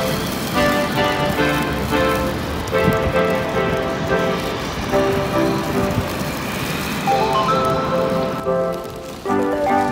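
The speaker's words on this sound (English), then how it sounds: "It's raining so heavily, I can't show you all." Heavy rain pours down steadily in Tokyo, a dense, loud hiss of drops drumming on surfaces throughout, with no voices.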